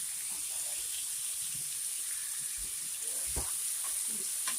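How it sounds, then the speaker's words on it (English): Bacon frying in a pan gives a steady, close sizzling hiss that fills the whole stretch, with a few faint pops and crackles rising out of it. "So we're gonna let the bacon cook down."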